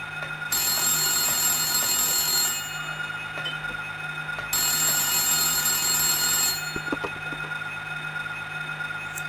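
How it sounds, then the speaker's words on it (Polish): A telephone rings in the Silent Hill video game, two long electronic bursts about two seconds each with a pause between, loud and alone over a low steady hum. "Dzwoni telefon."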